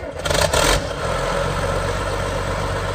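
A 1998 John Deere 850C dozer engine cranks and fires with a brief loud burst, then settles into a steady, close, low diesel idle rumble.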